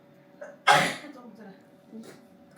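A single sharp, loud sneeze bursts out near the mic amid quiet household murmur during a family Varalakshmi Vratham pooja celebration, with faint talk before and after.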